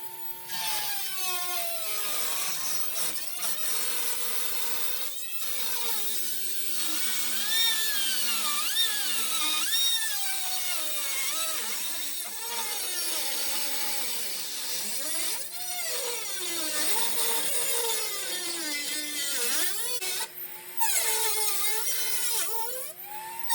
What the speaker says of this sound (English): I took the sander, belt sander, and sanded the edges down to get the form of shape that I wanted.